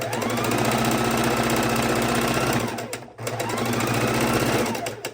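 A sewing machine stitches quilt fabric scrap strips together in two long, loud, close runs of fast rhythmic needle clatter, separated by a brief pause.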